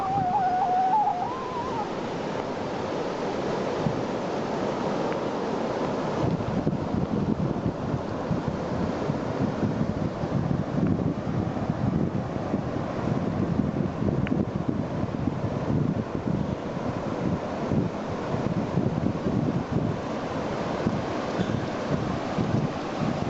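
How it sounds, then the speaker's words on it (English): Ocean waves and wind on a Costa Rica shoreline, a steady broadband wash of surf with gusting wind buffeting the microphone, continuous and fairly loud with no talking. "I can see the ocean"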